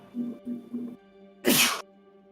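One sharp, breathy sneeze bursting out after a few short murmured sounds, close and fairly loud against a quiet room hum.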